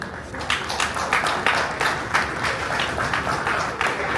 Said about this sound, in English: A round of applause for Live Sports.